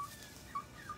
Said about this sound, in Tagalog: Uy, ang manok.